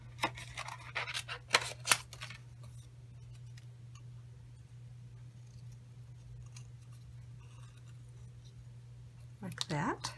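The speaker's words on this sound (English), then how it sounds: "And then I fussy cut him out with my snips" Snips fussy-cut paper for a handmade card: quiet, crisp snipping clicks come in a cluster at the start and again near the end, with a low steady hum underneath.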